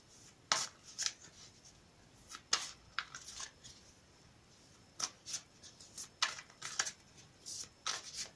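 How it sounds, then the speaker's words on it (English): Cards being riffled and shuffled in a series of crisp, papery bursts, close up, with brief pauses between each shuffle. "I've already pre-shuffled this deck, but I'll shuffle them again for you on camera"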